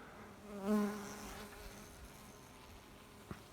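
Bees in a forest log hive buzz faintly and steadily at close range, with a brief louder drone early on and a soft knock near the end.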